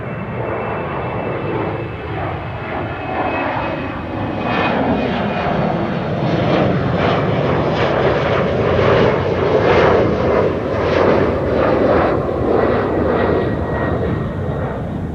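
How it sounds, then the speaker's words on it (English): A Bombardier Challenger 650 business jet takes off from runway 22 at Amsterdam Schiphol, heard as a loud, sustained engine roar that swells in the middle and stays steady throughout. "Bombardier Challenger 650 is taking off from runway 22."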